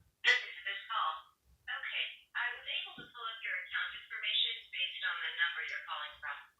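A phone call heard over a speakerphone, a thin, band-limited voice talking in phrases with short pauses, clear and close with no other sounds around it.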